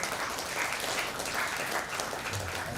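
A university hackathon crowd applauds the organizing team with a steady wash of many hands clapping, even and continuous throughout, heard from within the room.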